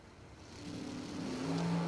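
Oldsmobile Achieva drag car launching hard off the line at a drag strip, a rising engine drone that builds steadily in loudness over two seconds with a strong tonal growl toward the end.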